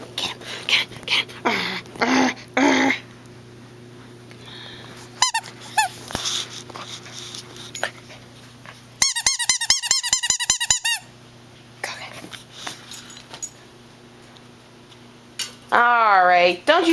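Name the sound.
dog fighting with squeaky shark toy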